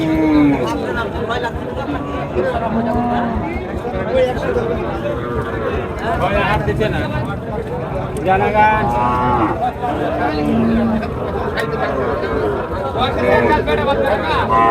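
Local cows and calves low repeatedly at the crowded Chowbaria cattle market in Naogaon district, loud moos rising over constant crowd chatter and nearby voices bargaining.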